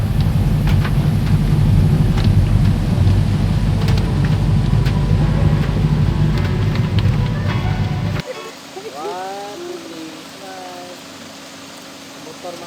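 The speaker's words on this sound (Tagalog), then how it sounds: "it's raining very hard" Heavy rain pours loudly and steadily at a forest riverside spot in Bohol, then drops away abruptly, leaving quieter background with birdsong.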